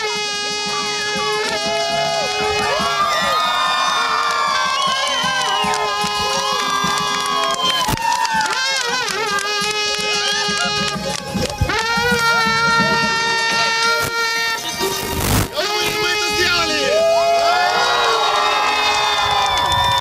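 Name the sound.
crowd cheering and applauding record-setting pilots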